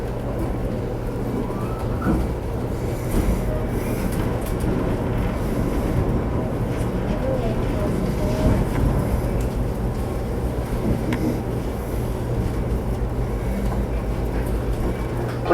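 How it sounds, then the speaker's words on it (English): Engine 501 rolling along on a heritage railroad, a steady low rumble and drone of the moving train with faint clanks, continuous and fairly close throughout. "the train will proceed ahead again unexpectedly"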